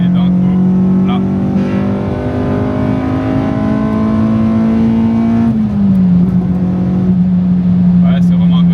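A Honda Civic EP3 with a K20 engine revs hard into VTEC, a loud rising whine that climbs steadily, briefly drops with a shift, then climbs again from inside the cabin.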